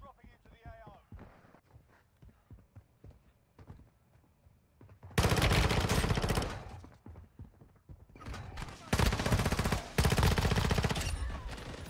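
Gunfire in Warzone Mobile on Rebirth Island: sparse quiet shots and clicks give way to loud, dense bursts of rapid fire in two long stretches, close and harsh, with players talking faintly in the quieter part.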